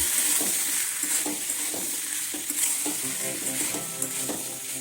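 Chickpeas and potatoes stir-fried together in a pan, a steady close sizzle with repeated soft scraping strokes of a spatula at an uneven rhythm.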